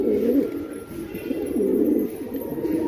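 A pigeon coos close by in a repeated run of soft, low, throaty calls that keep going throughout, with no other sounds competing.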